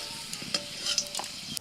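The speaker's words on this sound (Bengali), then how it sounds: "একটু নাড়াচাড়া করে ভেজে তুলে নিচ্ছি।" Cashews and raisins stirred as they fry in ghee, giving a faint sizzle broken by a few scraping strokes and small knocks of a spoon against the pan.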